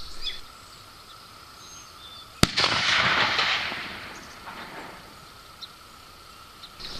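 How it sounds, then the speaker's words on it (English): A sharp crack starts a single explosion, followed by a loud, rumbling roar that swells and slowly fades over a few seconds against a quiet outdoor background. "That one hit about right where I wanted. Pretty good explosion."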